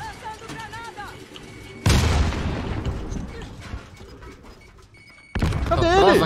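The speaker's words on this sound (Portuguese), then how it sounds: "Vou jogar granada lá." A grenade blast in Call of Duty Warzone lands as a sudden loud boom that decays slowly, followed later by another abrupt burst of gunfire or explosion, with players talking before and after.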